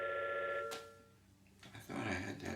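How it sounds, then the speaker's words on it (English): A telephone rings in a room, one steady electronic ring lasting under a second, followed by clattering handling noise close by. "There's a phone ringing."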